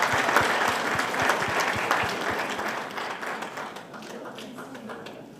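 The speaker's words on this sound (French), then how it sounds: "si vous applaudissez." An audience at a Paris writers' weekend event applauds in a lively burst of clapping that gradually fades.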